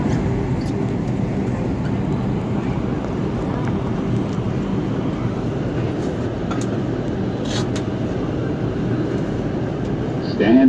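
An R142 New York subway car on the 4 line, Manhattan bound, rumbles steadily along the track in a loud, continuous low roar heard from inside the train, with faint squeals and rattles on top.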